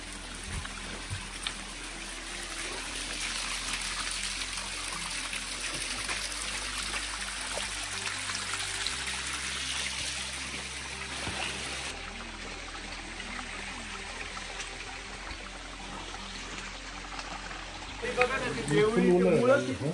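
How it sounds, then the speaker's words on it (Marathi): Water from a natural spring trickles and streams steadily along the Dhodap fort trek, close and continuous, with people talking over it throughout. "ही जिवंत झरा आहे. हा कायम पाणी असतं."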